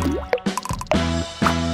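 Food colouring drips into gelatin in a bowl, a quick series of close, clear plopping drops with watery resonant pings, heard alone.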